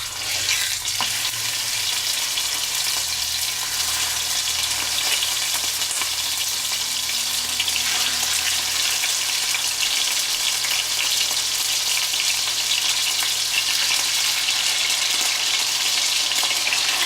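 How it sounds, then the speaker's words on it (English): Beef choice top blade steak dropped into smoking-hot oil under a splatter guard, giving a loud, dense, unbroken sizzle that holds steady from start to finish, close by. "Once your oil is smoking hot, add your meat."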